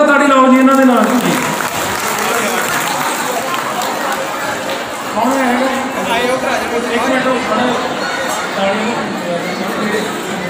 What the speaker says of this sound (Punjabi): ਇੱਕ ਵਾਰੀ ਜ਼ੋਰਦਾਰ ਤਾੜੀ ਲਾਓ ਜੀ ਇਹਨਾਂ ਦੇ ਨਾਮ ਦੀ